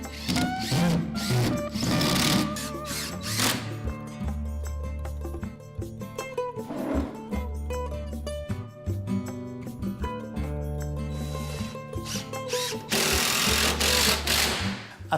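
A power drill drives screws during a final installation job, sounding in repeated loud whirring bursts with a steady motor tone, separated by short pauses and handling clatter, with no talking.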